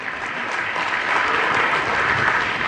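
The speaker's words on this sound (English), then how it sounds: "You guys have to clap." An audience at a motivational business talk claps together, a dense, sustained round of applause that holds steady and grows slightly fuller midway.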